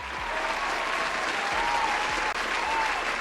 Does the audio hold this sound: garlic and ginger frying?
no